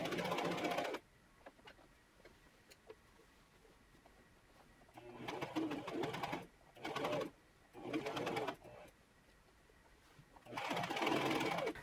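A sewing machine stitches a flannel pinafore dress in several separate runs. The bursts are loud, close and rapid-fire, with quiet pauses between them and a faint soft cooing in the background.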